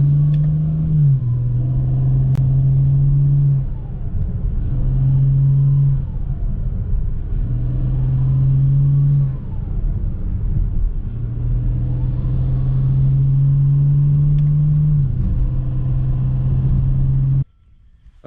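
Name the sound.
BMW E92 335i engine rumble with downpipes, full bolt-on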